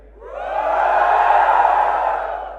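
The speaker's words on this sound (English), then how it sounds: "Mi fans, give me a cheer." A large indoor crowd of fans cheers at a Xiaomi Redmi K20 launch event, a loud collective shout and whoop that swells over half a second, holds, then fades away with no talk over it.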